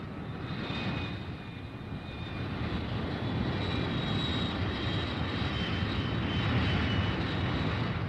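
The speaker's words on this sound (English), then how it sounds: "Back at the base, the fighter bombers take off." Cold War fighter-bomber aircraft taking off from an air base, a steady roaring engine drone with a high whine that swells louder over several seconds, heard alone with no talk.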